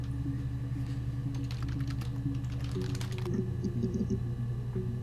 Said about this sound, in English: Typing in random words is so fun, actually.